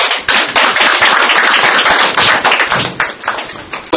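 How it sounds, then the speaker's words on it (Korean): At a Korean political gathering in Daegu, an audience welcomes a speaker with loud, close, sharp clapping that comes in dense bursts and fades in uneven spurts toward the end. "큰 박수로 맞이하겠습니다."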